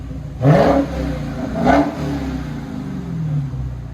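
A 2021 Dodge Charger Hellcat Redeye on its stock exhaust blips twice in quick, loud revs, each one swelling and then dropping back, before settling into a rumbling idle nearby.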